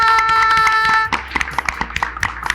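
Audience clapping at a paint brand's product launch event, a burst of scattered handclaps following a sustained musical tone, close and fairly loud.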